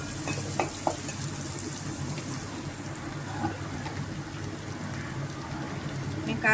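Korameenu fish frying red in a pan, a steady close crackling sizzle with scattered pops and faint stirring clicks running throughout at moderate level.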